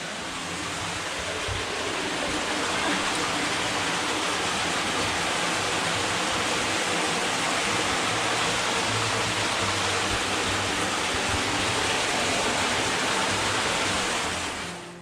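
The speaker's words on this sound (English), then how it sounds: "you will likely hear the Lost River before you actually see it" Lost River, an underground stream overflowing from an opening in a hillside, rushes in a steady, broadband roar of flowing water, loud and continuous throughout with no voices.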